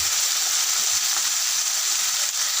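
Fenugreek leaves frying in a pan with a loud, continuous hiss and crackle, steady and close throughout with no voices.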